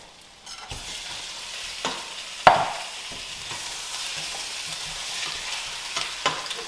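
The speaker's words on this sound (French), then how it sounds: "Maintenant, je vais y ajouter mes arêtes de turbo." Turbot fish bones and softened onions frying in a pan for a fish stock, with steady sizzling, scraping stirs, and a sharp clank partway through as the spoon hits the pan.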